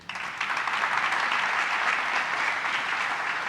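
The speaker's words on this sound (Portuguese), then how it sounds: "Dá um aplauso ao Senhor aí." A church congregation bursts into applause, a dense, steady wash of clapping that starts abruptly and carries on without speech over it.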